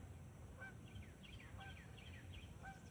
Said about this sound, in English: And now I'm hearing a frickin' goose.